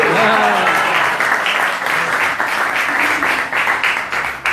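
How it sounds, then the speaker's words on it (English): A crowd at a Sunday spiritual talk gives a guest a loud, sustained round of applause, with a voice cheering over the dense clapping early on. "Please give Keshavananda Prabhu a big round of applause."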